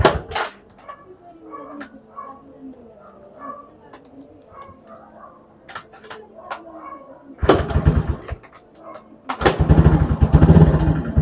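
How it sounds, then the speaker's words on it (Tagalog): A motorcycle with a charging fault is kick-started: quiet clicks and small mechanical knocks give way to a sudden loud engine burst near 7.5 s, then a pause and a second, stronger roaring start near 9.5 s, close by. "Yeah, umaandar naman siya sa kickstart."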